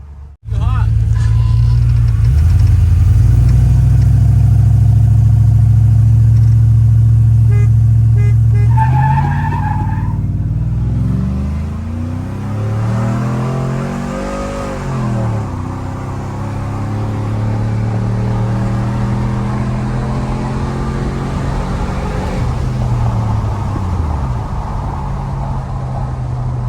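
A Chevrolet Silverado pickup fitted with a Corvette transmission servo accelerates hard, its loud engine note climbing through first gear before a shift drops the pitch, then rising again in a sustained close drone.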